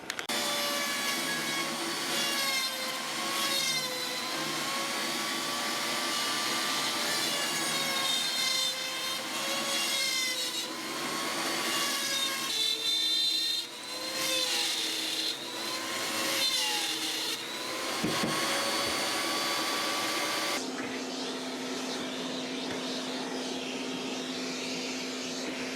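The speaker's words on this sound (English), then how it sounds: "So one thing about using this burr" A high-speed rotary burr grinds into an antique wooden buoy, a continuous close whine that rises and falls in pitch as the tool drags and bites, with a brief dip partway through.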